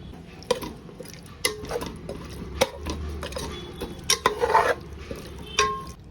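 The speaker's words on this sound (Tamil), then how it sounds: "கறியை நல்லா ஒரு 2 வதக்கிட்டு அது கூட ஒரு 110 கிராம் தயிர் ஆட் பண்ணி ஒரு 2 வதக்கிக்கோங்க" Beef sautéing with yogurt in a pot, a spoon clacking and scraping against the metal in irregular knocks over a low simmering bubble, close by and alone.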